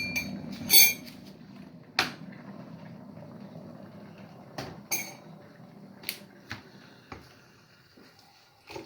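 A spoon clinks against a cup a few times at uneven intervals, with small knocks and handling noises in between.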